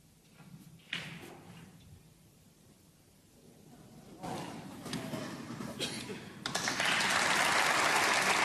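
Snooker audience at the German Masters applauds Ding Junhui, the clapping starting faint and scattered, then building to a full, steady ovation by the end, with a commentator's voice heard early on.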